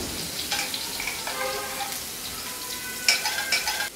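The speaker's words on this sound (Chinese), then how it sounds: "然后再加一点油，然后翻炒一下那个韭菜" Shrimp and chives stir-fried in oil in a home kitchen, a steady sizzle with a spatula scraping and clinking against the pan in irregular bursts, close and moderately loud, with no talking.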